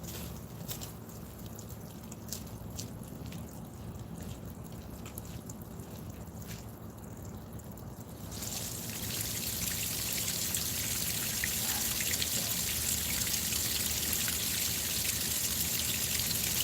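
Water runs back into a pump system, a steady rushing trickle that swells louder about halfway through and continues unbroken, with no voices.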